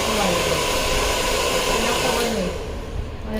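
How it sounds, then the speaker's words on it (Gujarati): Blow dryer running steadily on freshly coloured hair in a salon, a continuous close airy roar throughout with a faint voice underneath. "આપણે બ્લો ડ્રાયર કરીએ છીએ એમાં"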